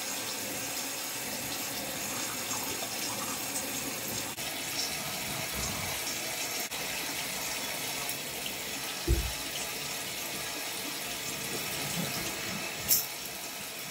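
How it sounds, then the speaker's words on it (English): Water runs steadily from a bathroom sink faucet while someone rinses cleanser off their face, a continuous close hiss with faint splashes and a couple of brief knocks, no talking. "So now we're gonna go ahead and wash this off"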